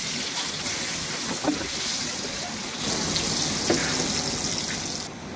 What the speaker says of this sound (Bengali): এখন আমি একটা ফ্রাই প্যানে একটু তেল গরম করে এগুলাকে ভেজে নিব।